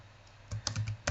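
Keystrokes on a computer keyboard while entering text into an app builder: a short run of about five distinct clicks, moderately close and clear, with no talking.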